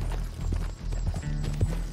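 Horse hooves clip-clop in a short uneven run in Red Dead Online, close and fairly loud over low game ambience and engine-like hum.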